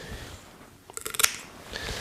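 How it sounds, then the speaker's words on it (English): A quick run of sharp snipping clicks from scissors cutting along the line of bones in a trout fillet, close up, in a few rapid bursts before fading back to quiet. "I'm going to use the scissors to cut along the line of bones to separate the fillet"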